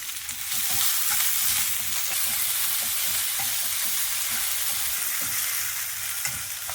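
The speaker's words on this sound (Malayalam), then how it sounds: "ഉരുളക്കിഴങ്ങ് പച്ചമുളക് കറിവേപ്പില ഇത് നന്നായിട്ട് വഴറ്റിയെടുക്കാം" Potato, green chili and curry leaves, with crushed garlic and onion, sauté in a pan for broccoli masala, giving a constant crackling sizzle broken by stirring scrapes, close and without speech.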